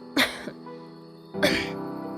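Two separate coughs, a short one and then a longer, rougher one, heard up close over a steady background hum.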